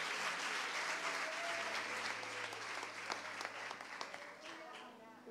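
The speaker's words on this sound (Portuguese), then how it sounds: "Vamos aplaudir ao Senhor por esse ministério transbordante." A church congregation applauds at a steady, moderate level, a dense wash of clapping with some voices through it.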